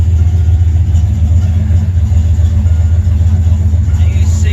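A turbocharged 351W Foxbody Mustang with a 6R80 transmission swap idles steadily and loudly, its deep continuous engine rumble filling the space with no one talking.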